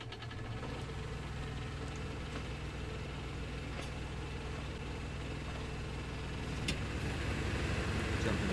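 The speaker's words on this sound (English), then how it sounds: "Just put the crank back on there, give it a spin to get it going." Crank-started machine running in the video game The Vanishing of Ethan Carter, a low steady chugging engine rumble that holds constant and grows slightly louder toward the end, with a couple of faint clicks and no speech.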